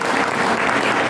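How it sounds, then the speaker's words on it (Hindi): Dense, steady applause from a congregation at a Hindi-language church deliverance service, loud and continuous for about a second with no pause. "ताली बजाओ"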